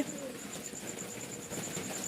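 Soft, low pigeon cooing repeats against a steady background hiss, fairly close but gentle.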